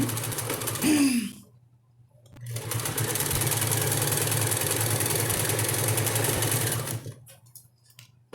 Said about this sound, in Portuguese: vamos iniciar a nossa costura